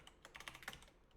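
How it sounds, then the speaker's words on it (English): Rapid, dense clatter of keys being mashed on a computer keyboard, a flurry of overlapping clicks at close range with no voice over it. "Please stop mashing keys."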